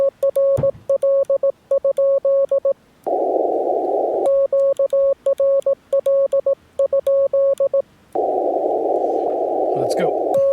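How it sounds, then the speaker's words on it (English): Morse code (CW) sent on an amateur radio during a Parks on the Air activation, heard as a steady sidetone of keyed dots and dashes in rhythmic bursts, broken by stretches of loud static hiss between transmissions. "We'll switch over to Morse code."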